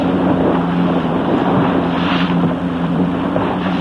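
Lightning-class sailboat moving through a breeze, heard as steady, close wind rush over the microphone with a low hum of the boat underneath, constant for the whole stretch.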